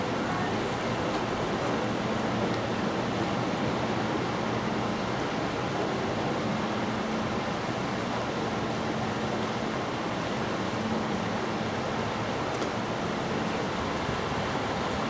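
The very fast-flowing River Itchen in Winchester rushes past close by, giving a constant, dense roar of water that stays loud and even from start to finish.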